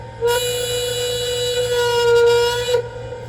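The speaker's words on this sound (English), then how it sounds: "F2 is the whistle." An LGB Stainz model locomotive with Zimo sound blows a single sustained horn-like whistle loudly for nearly three seconds, steady and tonal, then cuts off, with a low hum underneath.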